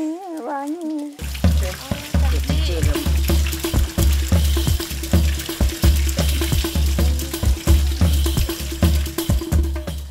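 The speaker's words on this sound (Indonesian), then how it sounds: "ini kita semua sudah dibilas nih logamnya" Traditional metal pieces rinsed in water, a busy close splashing and clinking under steady running water, with people talking over it throughout after a brief voice at the start.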